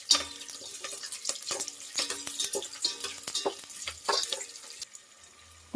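Green chillies fry in a pan as the base for chicken biryani, giving faint, uneven sizzling and crackling with clinks and stirring scrapes throughout, no talk over it.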